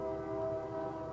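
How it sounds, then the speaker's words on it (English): A freight train passes in the distance: a steady, sustained tonal drone like a horn or wheel hum rising over low rumbling, heard alone at moderate loudness. "Then I awoke to hear the freight train passing in the distance."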